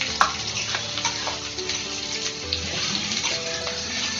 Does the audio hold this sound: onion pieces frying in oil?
yes